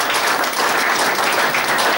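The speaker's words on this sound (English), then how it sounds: "If you give them a round of applause" A crowd applauds a football club's first team squad and backroom staff at a supporters' trust player-of-the-year evening, with steady, dense clapping filling the room from start to finish.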